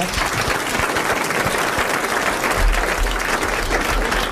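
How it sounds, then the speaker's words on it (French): A studio audience on a 1981 French television game show applauds a contestant, with dense, sustained clapping filling the room at close range from start to finish. "vous applaudissez Monsieur Lenné de Dijon"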